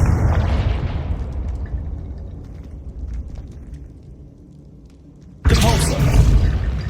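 Confringo explosion spell from Hogwarts Legacy: a sudden loud burst near the end, after a stretch of lower rumbling game ambience.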